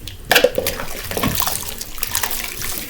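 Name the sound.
washing dishes with running water in a living room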